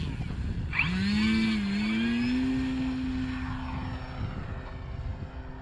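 An FMS Pitts 1400mm RC model biplane's electric motor and propeller whine up steadily during a takeoff run from grass, a rising, sustained tone that holds fairly loud through the clip against outdoor background noise.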